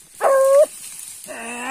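Small dog during a paca hunt, one short sharp yelp followed by a thinner whimpering whine, close and fairly loud with no talk.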